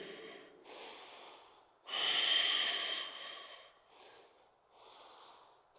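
Close, audible breaths during a yoga twist in a power yoga flow: a few long inhales and exhales, one especially strong and airy, with slightly nasal, snorting edges and quiet gaps between them.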